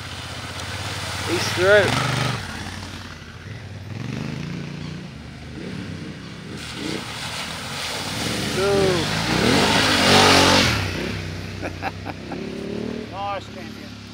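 Adventure motorcycles ride through a rough trail one after another, engines revving and droning past at middle distance, while people talk and call out nearby.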